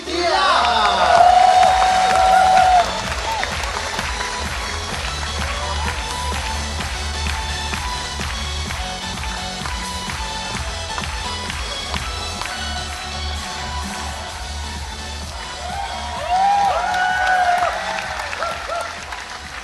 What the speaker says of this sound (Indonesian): Beri tepuk tangan yang meriah untuk Dani Aditya